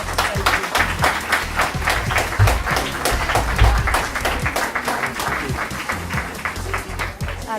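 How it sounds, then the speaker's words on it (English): Participants at a participatory budgeting meeting in Higher Folds, Leigh give themselves a big round of applause: dense, steady clapping from a roomful of people lasting several seconds, with some voices mixed underneath. "give yourselves a big round of applause"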